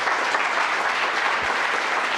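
Warm, loud applause from a tech conference audience welcoming a speaker to the stage, a full, steady sheet of clapping from many people that holds at an even level throughout.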